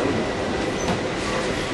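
Passenger train City of New Orleans running, a loud, steady rumble of wheels and carriage noise from inside the car with a constant broadband roar and no clear speech.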